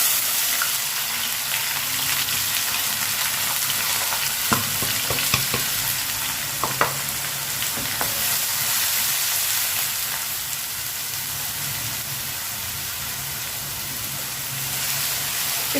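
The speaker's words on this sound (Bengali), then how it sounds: "একটু লাল লাল করে ভেজে নেব।" Two chopped medium-sized onions fry in a pan for Punjabi-style rajma, a steady broadband sizzle with a few sharp spatula clicks and stirring scrapes, close and continuous with no talk.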